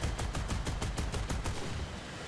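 A 30 mm aircraft cannon fires in War Thunder, letting off a rapid, evenly spaced burst of about nine heavy booming rounds before stopping abruptly, with no talk over it.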